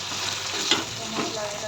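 Spice paste fries in a little oil for a chicken recipe, making a steady, close sizzle with one sharp clink of a stirring utensil partway through.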